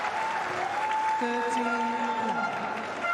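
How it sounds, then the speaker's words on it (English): A home crowd at a tennis tie cheers and applauds for Team Italy, a dense sustained roar of clapping and shouts with a commentator talking over it. "The roar from the crowd after this one"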